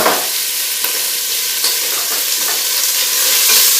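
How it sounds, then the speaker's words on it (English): Andouille sausage sauteing in a pan gives a loud, steady sizzle and crackle, close up, with a few soft stirring knocks at intervals and no talking. "I'm going to saute off andouille sausage."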